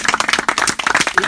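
An audience claps for two singers at a storytelling performance of life stories from a farm in Trébry, a dense, steady patter of many hands close by for a short stretch.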